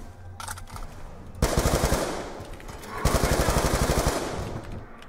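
Automatic gunfire in the video game Black Ops 2 Zombies on the Die Rise map: two rapid bursts of machine-gun fire over steady game background noise, close and loud.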